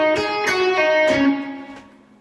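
An electric guitar plays a fast pentatonic phrase, hammer-ons and pull-offs running in quick succession before the last note rings out and fades.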